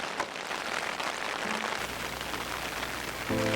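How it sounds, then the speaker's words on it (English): Continuous rain patters on a taut tent fabric nearby during an Arctic river trip, a dense steady hiss with no voices. "As you can hear, it's raining outside."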